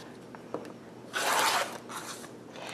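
A rotary cutter slices through fabric strips on a cutting mat, one close, brisk rasping cut in the middle followed by a softer second pass, with light handling sounds around it.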